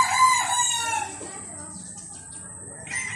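A rooster at a gamefarm gives a loud, close cock-a-doodle-doo crow, trailing off into quieter background noise.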